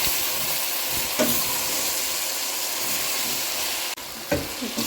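Chopped celery sizzles steadily in a hot pan, a continuous close frying hiss with a couple of brief stirring clatters.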